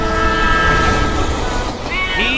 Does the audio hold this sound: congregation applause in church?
no